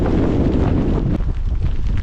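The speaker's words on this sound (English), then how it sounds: "Quite windy." Strong wind on an open hilltop buffets the microphone in loud, rumbling gusts that ease slightly partway through, with nothing else audible.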